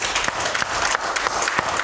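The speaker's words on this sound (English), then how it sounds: "Give the Lord a hand clap this morning." A church congregation claps during a morning worship service, a dense steady patter of many hands with a few sharper individual claps standing out, fairly close and continuous throughout.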